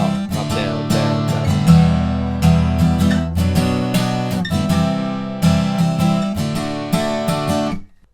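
An acoustic guitar strums the bridge chords of a song in a steady down-and-up pattern, full and close, with chord changes along the way and a final strum ringing out.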